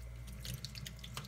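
Water runs from a sink tap onto a makeup brush, a quiet, steady trickle with small splashes and drips, close by and heard alone.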